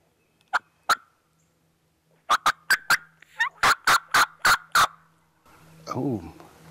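A wild turkey answers during a spring hunt with a pair of sharp calls, then a loud rapid string of gobbling bursts, followed by a short stretch of nearby talk.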